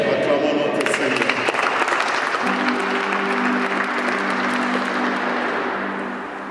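A church congregation applauds together during Mass, a sustained wash of clapping that fades out at the end as a sung or held tone rises beneath it.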